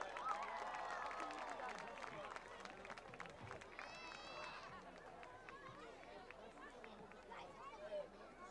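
Scattered applause and cheering for the Quincy High School cheerleaders at a Scituate vs Quincy high school football game, heard at moderate distance over steady crowd chatter in an open stadium, with a brief swell near the end.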